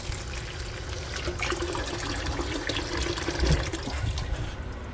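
Water pours into a rock tumbler barrel to pre-wet the grit and material, a steady splashing, trickling rush that runs unbroken for several seconds, close and moderately loud.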